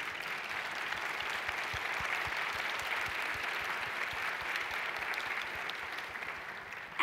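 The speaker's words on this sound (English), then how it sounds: "so applaud your teachers, please, if they're here." An audience applauds teachers at a science talk, a dense, steady wash of many hands clapping that fills the hall for several seconds and tapers slightly toward the end, with no voices clearly heard over it.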